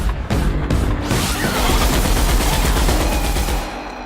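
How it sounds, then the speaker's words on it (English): Sustained loud bursts of heavy machine gun fire in The Outer Worlds, the weapon modified to deal shock damage, with dense rapid shots and impacts for about three and a half seconds before trailing off. "the weapon we're using is a heavy machine gun that's actually been modified using our engineering skill"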